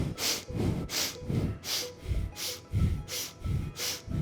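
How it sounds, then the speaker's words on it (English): Breath of fire from a Kundalini yoga practice, rapid rhythmic breathing through the nose with about eight even sniffing inhales and exhales in quick succession, close and clear with no talking. "And begin breath of fire. This is equal inhale and exhale through the nose."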